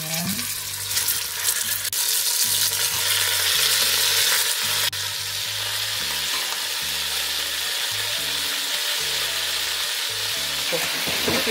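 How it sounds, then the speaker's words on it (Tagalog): Rolled beef sizzles steadily in very hot oil, a dense continuous frying crackle with faint clinks of the pan, and no voices. "So first pre-prituhin muna yung naka-roll na meat."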